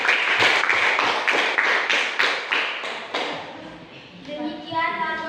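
A classroom group claps hands together after a student's discussion report, a series of sharp, fairly loud claps that fade toward the end as faint voices come in.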